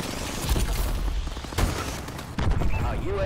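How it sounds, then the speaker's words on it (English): Missile strikes in Call of Duty Advanced Warfare land as a quick run of booming explosions mixed with gunfire bursts, loud and close, under a voice announcing over the battle. "Friendly missile strikes inbound."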